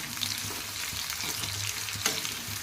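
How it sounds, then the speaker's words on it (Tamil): Thinly sliced onions fry in hot oil in a kadai for Hyderabadi chicken biryani, giving a steady, close sizzle with occasional soft stirring scrapes throughout. "இப்போ நம்ம மெலிசாக கட் பண்ணி வச்சுருக்கிற இந்த வெங்காயத்தை ஃப்ரை பண்ணிக்கலாம்."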